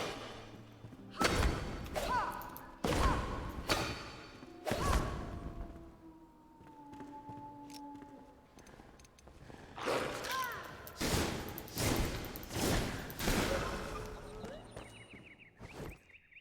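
Repeated magic wand shots fire while the player backs away in the survival game Enshrouded. About a dozen sharp bursts land at irregular one- to two-second intervals, with quieter ambient game sounds between them.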